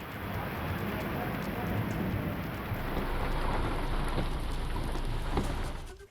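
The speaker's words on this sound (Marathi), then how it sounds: "नागपूरच्या काही भागात अवकाळी पाऊस झालाय" Steady, heavy unseasonal rain in Nagpur pours down in a continuous hiss, with a dense patter on surfaces throughout.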